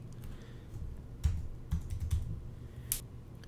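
Keystrokes on a Mac keyboard while a mail message is written, a few soft, scattered clicks at an uneven pace, close but faint over a quiet room.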